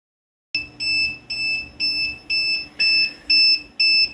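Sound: power station alarm beep

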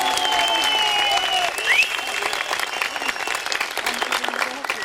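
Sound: applause

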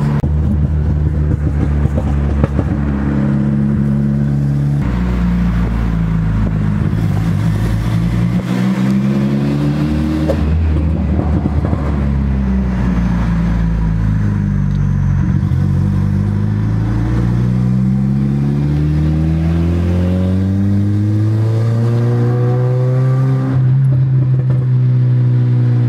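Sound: car turbo engine accelerating, M32 gearbox

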